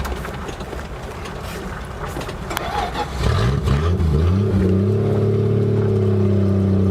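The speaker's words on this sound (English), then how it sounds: "The carburetor's cutting out on me." A 1968 Plymouth Valiant with a carburetor that keeps cutting out, heard up close as the engine stumbles and rattles before catching into a loud steady drone that rises slightly in pitch.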